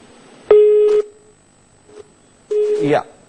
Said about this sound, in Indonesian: maaf sekali sambungan telepon dengan kontributor Metro TV M. Rizky terputus